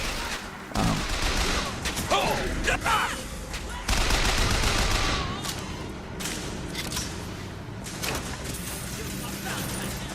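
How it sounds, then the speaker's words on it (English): Gunfire during a gun battle in the video game Bioshock Infinite, with repeated shots and bursts over a busy game soundscape, sometimes loud and close, sometimes farther off. "This is your first real gun battle."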